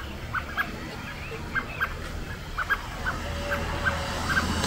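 Birds at a campsite give short repeated alarm calls as a cat approaches, sharp evenly spaced chirps over a steady outdoor background.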